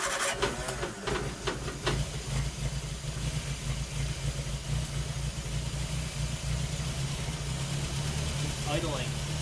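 A barn-find Triumph Spitfire engine idles steadily after its first start in 43 years, a low constant rumble running on a homemade fuel tank, with a person talking over it near the start and end.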